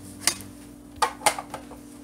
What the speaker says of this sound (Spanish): Ahora sí vamos a empezar a cortar toda nuestra cebolla